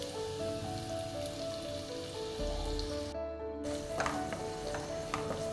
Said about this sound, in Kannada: ನೀಟಾಗಿ ಸ್ವಲ್ಪ ಆನಿಯನನ್ನು ಫ್ರೈ ಮಾಡಿಕೊಳ್ಳುವ